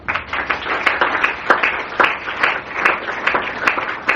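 A church congregation claps and applauds together in praise, a dense, steady rhythmic clapping with sharp individual hand claps cutting through the wash, loud and close throughout.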